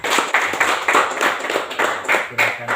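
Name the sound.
classroom students clapping hands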